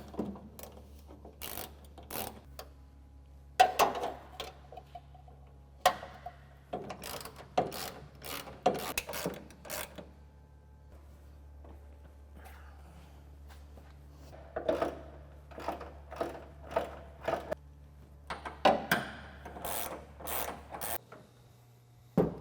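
A ratchet tightening the bed channel support bolts on a 2007-2021 Toyota Tundra: bursts of close, crisp clicking come in several separate runs, with quiet gaps and faint handling noise between them.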